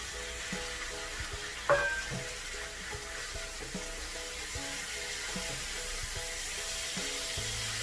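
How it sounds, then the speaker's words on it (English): Marinated minced beef seasoned with Worcestershire sauce and herbs sizzles steadily in a pan for a shepherd's pie, with a brief louder clatter as it goes in, then a constant moderate frying hiss with light stirring. "So I'm going to add this beef into the pan."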